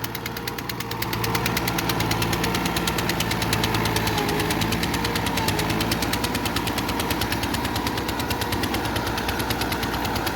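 A Fiat 640 tractor engine hauling eleven ploughs through a field, a loud, continuous diesel clatter with rapid rhythmic knocking that builds after the first second and holds steady, with no voices.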